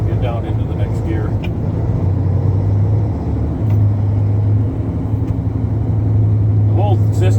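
Truck engine pulling down into the next gear after a shift, a steady low drone with an even hum throughout, loud and close from inside the cab, with brief background voices.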